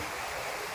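Rushing floodwater from a river swollen by heavy rain near Jambur village, a steady broadband roar of fast-flowing water filling the short moment without pause.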